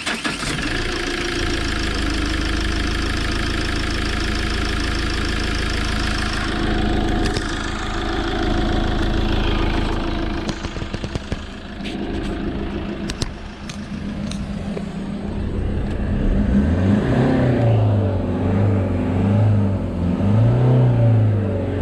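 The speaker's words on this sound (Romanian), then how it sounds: "să mai fac și o pornire de aici să vedeți cum se aude sau cum pornește" The 2.3 Multijet diesel engine of a 2007 Fiat Ducato van runs at idle with a steady, close, knocking rumble. A droning tone rises toward the end, and no one speaks.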